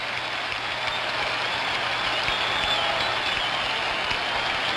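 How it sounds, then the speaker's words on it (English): A baseball stadium crowd roars steadily after a base hit to left field for the Red Sox in Game 6 of the 1975 World Series. The dense, sustained cheering and clapping carry evenly throughout, with no commentary. "Crowd comes alive."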